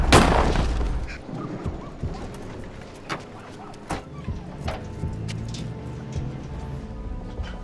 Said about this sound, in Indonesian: Kira yang tidak sudi pun langsung menembak Jack